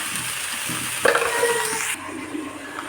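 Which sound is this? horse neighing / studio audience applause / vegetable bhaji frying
vegetable bhaji frying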